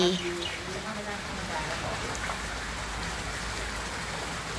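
Rain falls steadily outside a cafe in Mae Rim, a soft, even hiss that fills the whole clip at a low level, with a few faint bird chirps early on.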